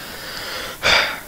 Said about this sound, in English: I clear my throat before starting.